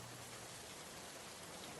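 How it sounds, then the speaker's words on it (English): Heavy rain pours steadily onto grass and a barn roof, a dense, even hiss with no pauses, faint and continuous. "You listen to the sound of the rain, harshly pouring down onto the grass and the roof of the barn."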